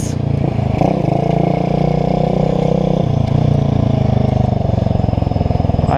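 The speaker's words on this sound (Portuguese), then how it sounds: "apareceu um motor ali pra mim" A motorcycle engine drones steadily nearby, with a shift in pitch partway through as it passes.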